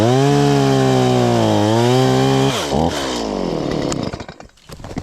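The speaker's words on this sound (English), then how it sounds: "Screw it, I'm gonna use a chainsaw to make it a little bit faster." A chainsaw cutting through a piece of wood outdoors, loud and close, the engine droning steadily, bogging down as the chain bites in, then dropping off and sputtering toward idle at the end.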